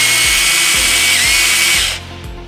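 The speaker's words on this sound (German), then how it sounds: "Bei uns ganz neu, Einhandkettensäge und die macht richtig Schwung" A one-handed chainsaw runs at full throttle nearby, with a loud, steady high-pitched whine and a rhythmic low thumping underneath, and it winds down abruptly near the end.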